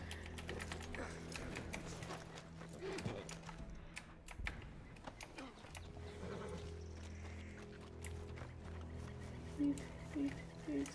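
Horse in Red Dead Redemption 2, steady clip-clop of hooves at moderate volume with occasional snorts, a voice talking now and then over the footsteps.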